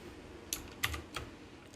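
Several separate keystrokes on a computer keyboard while entering Python code, sharp clicks spaced irregularly and heard close and alone over a quiet background.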